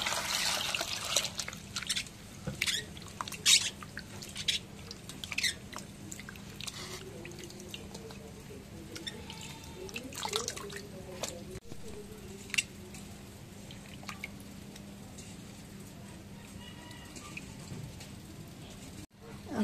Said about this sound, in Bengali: এখন আলু ধুয়ে নেই।